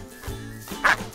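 A dog gives a single short, sharp bark near the end, moderately close, over a low murmur of background noise.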